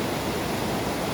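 Along a mountain hiking trail, a stream with a massive current rushes close by, giving a dense, constant roar with no pauses and no voices.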